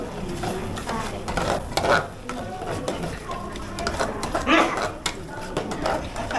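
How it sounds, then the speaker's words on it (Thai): Curry paste for a spicy pomelo curry being stir-fried in a pan, a soft sizzle with scraping and stirring strokes, under talk from a woman demonstrating to a group. "พริกแกงเราต้องผัดให้แตกมันนะคะ"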